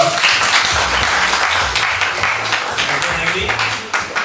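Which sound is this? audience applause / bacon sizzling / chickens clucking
audience applause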